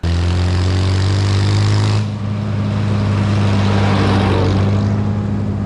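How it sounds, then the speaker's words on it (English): A Farmall tractor engine running flat out in fifth gear at about 20 mph, a loud, steady, droning roar with strong low harmonics and wind noise throughout, no talking. "this thing is scary fast at 20 miles an hour in 5th gear"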